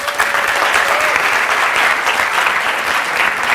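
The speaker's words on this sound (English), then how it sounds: "I believe we deserve a round of applause." Loud, sustained applause from a large audience at the NSMQ 2025 national championship launch event, a thick continuous roar of clapping with no pauses.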